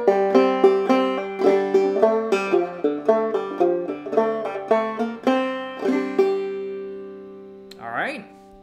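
Clawhammer banjo picks out a measure of the fiddle tune Cold Frosty Morn, bright plucked notes in a quick bouncing rhythm, close and clear, ringing out before a brief vocal sound at the end.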